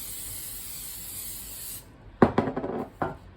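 Short bursts of cooking spray hiss into a baking pan for banana bread, a few quick close sprays after a steady background hum cuts out.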